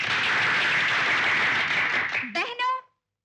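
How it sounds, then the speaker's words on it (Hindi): A club audience breaks into a loud, even burst of applause that fades away, and then a voice speaks briefly before silence. "तालियां"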